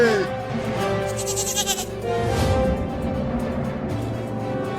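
A cartoon goat bleats in a wavering, drawn-out cry, loud and close, followed by a second bleat over a steady music-like background.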